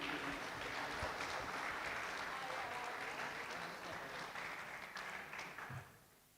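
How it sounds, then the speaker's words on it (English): An audience at a sustainable transportation and safety conference claps steadily for several seconds, the applause dense and moderately distant, tapering off abruptly near the end. "Applause for the audience,"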